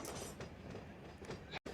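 A freight train rolls slowly past in Run8 Train Simulator at a humpyard, giving a steady rumble with faint clickety-clack of wheels on rail joints, fairly quiet and without talk.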